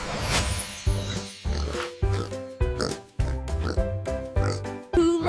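A pig grunting and oinking in a rapid series of short, nasal snorts, loud and close, separated by brief gaps.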